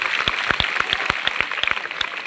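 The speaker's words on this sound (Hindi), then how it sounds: "सर के लिए जोरदार तालियां" Students at a school Teacher's Day celebration clap for a teacher: close, uneven hand claps from a small group, rising out of a steady wash of applause for about two seconds.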